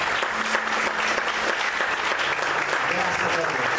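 A church congregation applauds steadily and loudly throughout, a dense continuous clapping that fills the room without pause.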